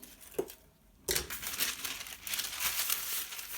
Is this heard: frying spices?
no